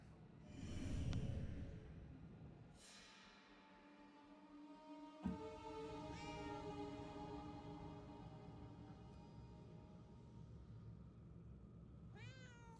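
A cat meows in the video game Murdered: Soul Suspect, several drawn-out meows with a snort, close and clear over a quiet ambient game background.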